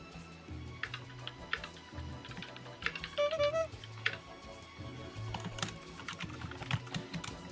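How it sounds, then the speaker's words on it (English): Keys clatter on a computer keyboard in quick, irregular bursts, quiet and close, with a low murmur of voices and faint background noise underneath. "Everyone else is typing"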